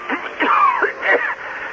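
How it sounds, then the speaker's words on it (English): A person takes a few quick sniffs of perfume from a bottle, short close breathy inhalations in a series, on an old radio comedy broadcast. "Okay, I'll take a little sniff."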